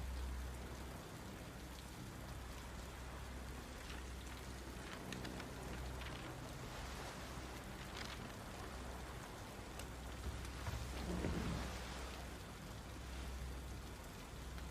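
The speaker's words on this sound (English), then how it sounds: "We wait for the rain to stop." Steady rain pours in a dramatic film scene, a constant dense hiss on the surface with low rumbling underneath, swelling slightly near the end, with no voices.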